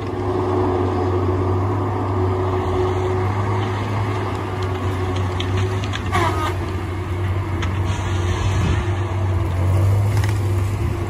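Tigercat 830 forestry machine swinging with a faulty swing gearbox, a steady loud engine drone with a low hum and occasional creaks and clunks from the swing mechanism, close by.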